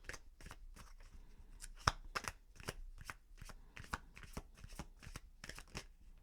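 Tarot cards riffled and shuffled by hand in a quiet room: a steady run of crisp, close flicking snaps, with one sharper slap partway through and no talking.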